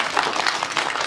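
Applause from a seated audience at a Nepali film press meet, a brief dense burst of clapping at close to moderate distance with no voice over it.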